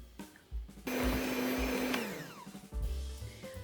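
An electric mixer whips about 300 grams of cream cheese for a strawberry roll, a steady loud whirring drone that starts suddenly, runs for about two seconds, then winds down in pitch, with brief bursts before and after.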